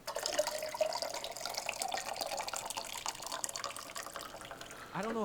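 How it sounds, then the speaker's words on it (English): Liquid running and splashing steadily as a coffee is poured, close and continuous, with a brief voice near the end. "Might pour a coffee"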